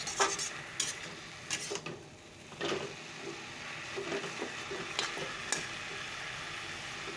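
Jute leaves (pat shak) with dried red chilli fry in a pan, a continuous sizzle broken by repeated scraping and stirring clinks of a utensil against the pan, close and fairly loud with no talk.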